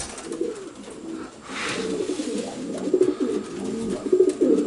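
Racing pigeons coo steadily in a loft on race basket day, a soft low rolling murmur from several birds close by, continuous and overlapping with louder swells toward the end.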